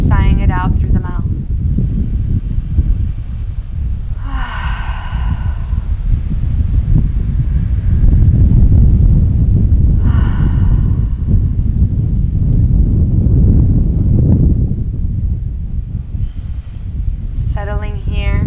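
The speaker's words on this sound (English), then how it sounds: "take 3 deep breaths in through the nose and release everything through the mouth" Slow, deep breaths drawn in through the nose and sighed out through the mouth during a guided relaxation flow, heard as a long, steady breathy rush close to the microphone, with brief spoken guidance at the start and end.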